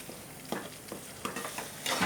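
Spoon stirring mashed banana into suji halva in a hot pan, soft scraping strokes over a low sizzle, fairly quiet and close, with no voices.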